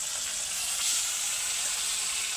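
Tilapia fish frying in hot oil gives a steady, fairly quiet bright sizzle and hiss that holds unchanged throughout, with no voices.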